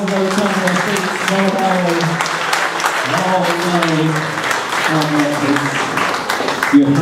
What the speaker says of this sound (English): John and Trish get a huge round of applause as they return to their seats.